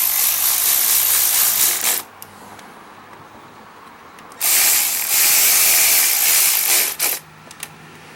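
Hand-cranking the engine of a Craftsman 2700 PSI pressure washer that runs and dies: two loud bursts of rasping, whirring pull-cranking, each about two seconds long, separated by quiet pauses, with no talk.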